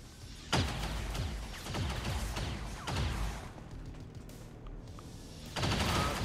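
Alien gunfire crackles in an XCOM-style turn-based video game, with bursts of rapid shots and a few loud blasts spread over steady battle noise.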